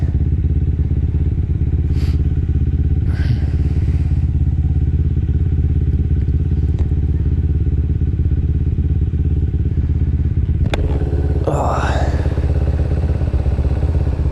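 Loud, steady engine drone of a Kawasaki Ninja 250 motorcycle riding on a road, with wind rush throughout and a few brief clatters and a short whine near the end.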